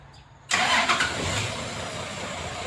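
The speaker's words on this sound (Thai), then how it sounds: "ฟังเสียงเครื่องครับฟังเสียงเครื่องนี" Isuzu six-wheel dump truck engine kicks in abruptly after a brief quiet moment, then runs with a steady, fairly loud rumble, close to the listener and with no talking over it.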